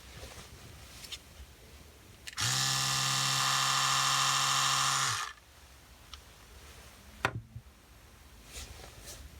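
Electric toothbrush switched on alone for about three seconds, a steady, close, high buzzing hum that cuts off abruptly, with quiet room noise around it.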